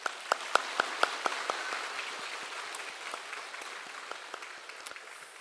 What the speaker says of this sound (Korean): 우리는 박수로 환영하겠습니다.